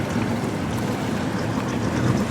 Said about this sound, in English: Donna is a 1956 Chris Craft, has a 131 horsepower, 6-cylinder Chris Craft engine.